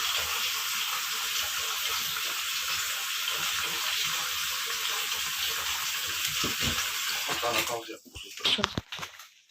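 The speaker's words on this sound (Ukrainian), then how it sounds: "І так, залили ми рибу водою." Tap water gushes steadily into a bowl holding fish, a broad continuous splashing rush that cuts off near the end, followed by a few clinks and handling sounds.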